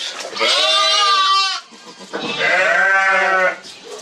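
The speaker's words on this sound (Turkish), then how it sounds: "Kuzular." Two loud, close bleats from young sheep, each a long wavering cry, separated by a short pause.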